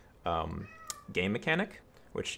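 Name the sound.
cat meowing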